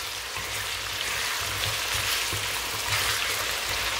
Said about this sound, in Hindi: तो चलिए इनको कर लेते हैं हम अच्छे से फ्राई।